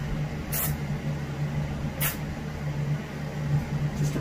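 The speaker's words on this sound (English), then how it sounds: "Just angle spray a little bit," Short airbrush bursts on a muskie fin being painted for taxidermy: two brief hissing sprays about a second and a half apart, over a steady low hum in a quiet workroom.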